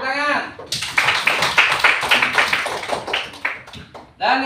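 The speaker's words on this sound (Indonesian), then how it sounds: "Tepuk tangan" A classroom claps after a group presentation, with about three seconds of loud, rhythmic clapping framed by a voice before and after.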